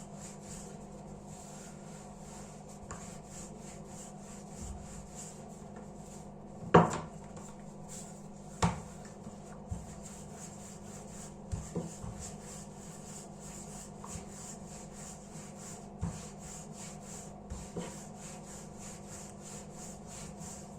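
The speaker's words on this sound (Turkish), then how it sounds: "Bir merdane yardımıyla böyle açıyorum." Soft, steady rubbing and rolling of a rolling pin over katmer dough on a wooden surface, with occasional light knocks and taps, quiet and close.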